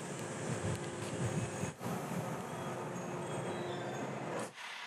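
A local passenger train bound for Tottori rumbles steadily at Kinosaki Onsen station, with a continuous low-to-mid rolling noise and a faint tonal hum, broken by two brief dips.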